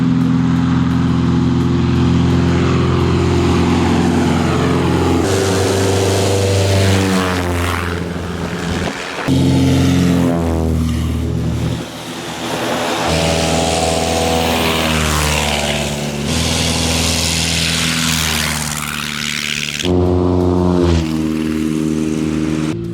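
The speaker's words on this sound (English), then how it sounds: "You always gotta love a good flyby." A Piper Carbon Cub propeller airplane roars past at close range during a STOL event at Rogers International Airfield, Kentucky, engine droning loudly and shifting in pitch as it sweeps by, swelling and fading.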